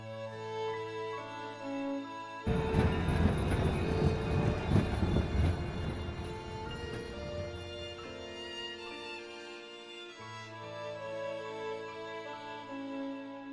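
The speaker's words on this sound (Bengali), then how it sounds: "ট্রেন চলে এসেছে" A cartoon train pulls into a station: a loud, rumbling, rattling rush swells in after a quiet stretch and then fades gradually, while a steady musical tone runs beneath it from start to end.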